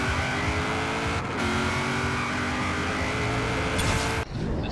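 A Buick Regal revs and launches off the line in Forza Horizon 4 drag racing, its engine note holding steady and climbing under load. A brief tire squeal and gear-shift dips break the loud, continuous drone.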